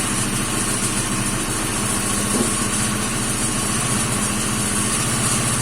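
A freshly rebuilt Honda CG motorcycle engine running on its first start, a loud, close, steady idle with a rapid even chugging pulse and a constant mechanical rattle, no voices.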